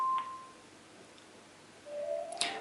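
Telephone dialing tones and beeps from a Click2Call OVH hands-free call on Mac OS X: a brief tone, a quiet gap, then a rising electronic tone with sharp beeps at the end, faint and alone.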